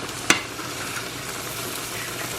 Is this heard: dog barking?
no